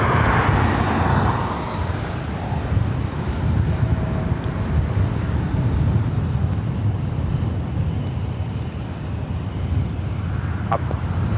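An Emirates Airbus A380 arrives at LAX as a broad, steady jet roar heard from a distance, mixed with wind rumble on the microphone. It stays constant through the whole stretch.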